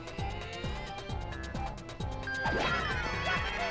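Power smash attacks land in Paper Mario: The Thousand-Year Door as a rapid run of sharp, punchy impact thuds over game music, roughly one every third of a second, ending in a brighter crash with sparkling effects.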